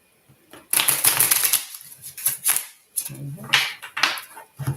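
Close-up bursts of tarot cards being shuffled, several rapid riffling rushes separated by short pauses, with no talking.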